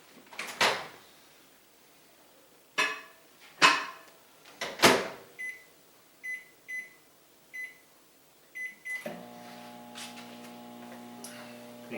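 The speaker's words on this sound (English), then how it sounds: "In the microwave." Microwave oven heating a tortilla: a door clunks shut, several button beeps sound, then the oven starts with a steady low hum close by.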